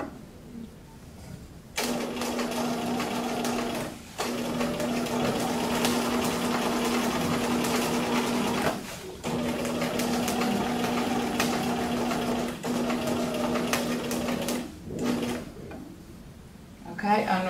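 A sewing machine stitches reinforcement with a very small stitch on a sleeve placket, running in several long close bursts with a steady whirring hum, separated by brief pauses.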